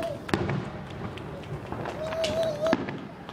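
Fourth of July fireworks exploding during the finale, a few booming bursts and crackles at a distance, with people talking and reacting over them.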